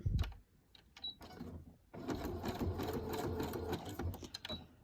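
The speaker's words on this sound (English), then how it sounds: "what I'm going to do is run down this seam right here" Sewing machine stitching a seam in fabric, starting with a few short bursts, then a steady rapid mechanical whirr and clatter running continuously up close.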